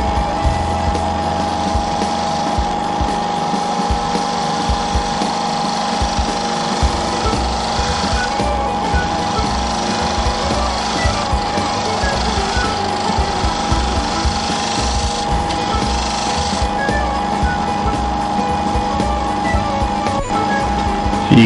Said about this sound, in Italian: toccando il legno con il tallone, lentamente si gira la sgorbia fino a che comincia ad alzare i